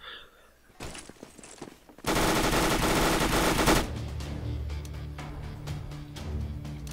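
Rapid automatic gunfire from Counter-Strike: Global Offensive in its beta release, a dense continuous burst lasting under two seconds after a few scattered shots, followed by ringing in-game ambience and fainter distant shots.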